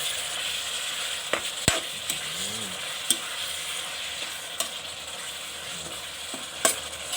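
Beef with holy basil is stir-fried in an electric pan, with a steady sizzle and crackle broken by sharp scraping clicks of a spatula against the pan, close by with no speech.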